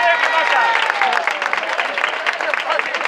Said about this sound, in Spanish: Un aplauso para los padres.